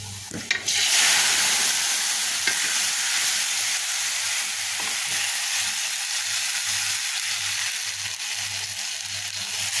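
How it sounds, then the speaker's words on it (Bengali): Vegetables poured into oil where onion and garlic have been frying, then stirred; a loud, continuous hiss of frying runs throughout with scraping stir strokes, heard close by with no one speaking. "পেঁয়াজ রসুন তেলে দিয়ে যে ফ্রাই করে নিচ্ছি, ভাজা হয়ে গেছে পেঁয়াজ। এবার সবজিটা ঢেলে দেবো।"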